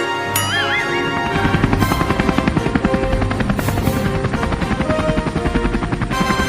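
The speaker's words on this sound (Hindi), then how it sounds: "अरे हमारे गांव में हेलीकॉप्टर" A helicopter's rotor thumps steadily and loudly throughout, a dense rhythmic chopping with a droning engine whine underneath.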